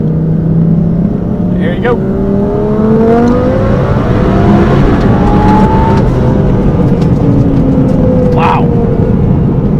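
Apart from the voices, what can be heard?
BoostLogic twin-turbo Gen II Audi R8 accelerating in pulls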